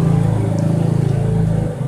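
A Suzuki Tornado GS 110 motorcycle with its standard stock exhaust runs close by, a brief, loud, steady engine drone with a pulsing exhaust beat.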